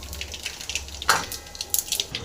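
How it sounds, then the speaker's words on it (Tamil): Mustard seeds splutter in hot oil for a sweet pumpkin stir-fry, making quick irregular pops and crackles close up over a faint background sizzle, with no voices. "கடுகு பொரிஞ்சிச்சு"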